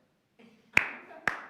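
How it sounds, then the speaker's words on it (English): Slow clapping, two sharp single hand claps about half a second apart, close and crisp, following a brief murmur of voice. "Out of time, slow clap is the best"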